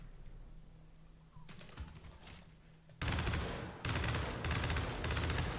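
Hammer Burst rifle in the Gears 5 video game firing in quick bursts, a few sharp reports at first, then loud sustained rapid gunfire crackling over the last half, close and continuous.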